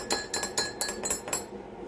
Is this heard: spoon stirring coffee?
yes